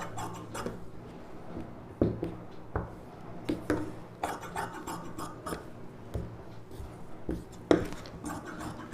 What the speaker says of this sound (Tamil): இப்படி போட்டு இதை அப்படியே கட் பண்ணி எடுத்துக்கலாம்.